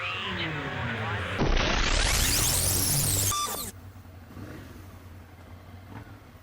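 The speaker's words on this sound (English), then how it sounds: "I am taking my first ride on a Ducati Monster 659." A Ducati Monster 659 motorcycle engine rumbles at idle, then revs up loudly and sharply for a couple of seconds before dropping back to a steady, quieter idle, with faint voices around it.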